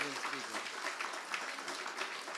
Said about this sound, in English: Let's give big applause to my eminent speaker.